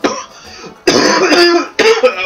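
A person coughs three times in quick, harsh bursts, close and loud, with short gaps between them.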